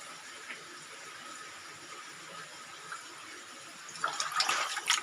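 Water flows inside a cave at Dao Falls in Samboan, Cebu, first as a faint, steady trickle that swells into louder splashing over the final second, with no voices.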